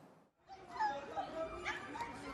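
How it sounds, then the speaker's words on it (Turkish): An unleashed pitbull attacks another dog on a city street, drawing frantic yelps and whimpers that come in quick bursts amid agitated human voices. "Azlıksız dolaştırılan pitbull cinsi köpek başka bir köpeğe saldırdı."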